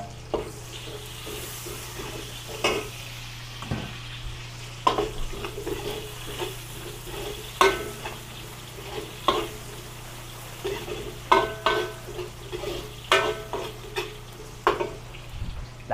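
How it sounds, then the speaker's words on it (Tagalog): Garlic and then onion cooking in hot oil in a pan, a low steady sizzle broken by repeated scraping and stirring clatters of a utensil, with no talking. "Mainit na ho yung ating mantika. Luto-lutuin lang po natin yung bawang. Tapos sunod natin yung sibuyas."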